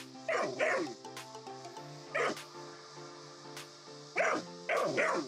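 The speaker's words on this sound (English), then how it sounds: "he starts barking even more" A dog on a home patio barks in short bursts, pairs of sharp yips and woofs separated by brief pauses, fairly close and clear against a quiet background.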